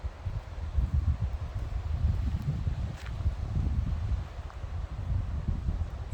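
Steady, loud wind roars and buffets through palm trees near a garden, with low rumbling gusts and faint leaf rustle throughout, no voices.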